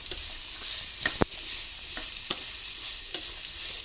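Okra frying in a pan to cook off its sliminess for a masala, stirred with a spoon: a low hiss of frying under several sharp scrapes and taps against the pan, close and quiet, no voices.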